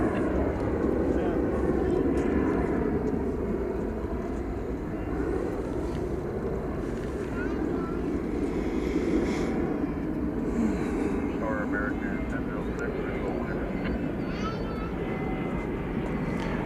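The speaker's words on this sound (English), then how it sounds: "And the Peacock A380" A Peacock-liveried Airbus A380 departs DFW Airport at night with a sustained, rumbling jet roar. The roar stays steady and fairly loud, and occasional voices run beneath it.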